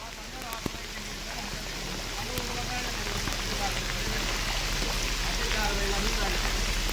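Steady heavy rain hisses throughout in a flooded Punjab farming village, with a few faint voices murmuring under the downpour and occasional sharp drips or knocks.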